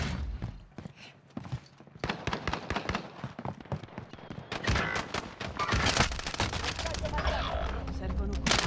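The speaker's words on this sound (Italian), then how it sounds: "Stanno sparando." Video game gunfire, with dense volleys of shots and bursts that grow louder and more continuous toward the end, mixed with footsteps and a player talking over it.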